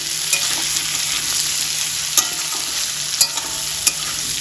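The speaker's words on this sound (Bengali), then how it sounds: "2 থেকে 3 মিনিট আমি সব কিছু ভালোভাবে তেলের সাথে কষিয়ে নিয়েছি" Chopped tomato fries in hot oil alongside ginger and garlic, a loud steady sizzle punctuated by a few sharp clicks of the stirring spoon against the pan.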